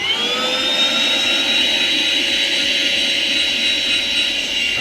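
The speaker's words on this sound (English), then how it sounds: "So if you attach back here, this should be a blower." A Craftsman V20 cordless portable 3-in-1 vacuum runs as a blower, giving a loud, steady high-pitched motor whine with a rushing air hiss that holds even and close throughout.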